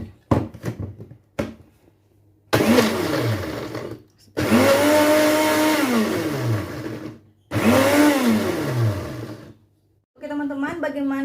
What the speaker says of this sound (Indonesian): Oke, blender.